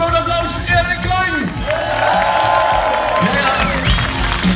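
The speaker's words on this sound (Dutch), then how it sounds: "Geef hem een groot applaus, Erik Klein!" Crowd cheering and clapping around a parade float, a lively mix of whoops, shouts and applause with voices and music mixed in, loud and close throughout.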